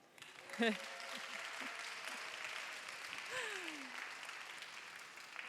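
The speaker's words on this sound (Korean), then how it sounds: "우리 청년들은 큰 환영의 박수 부탁드립니다" Church youth congregation claps to welcome a young soldier home on his first leave, with steady applause sustained for several seconds in a large room while a voice and brief vocal sounds rise over it.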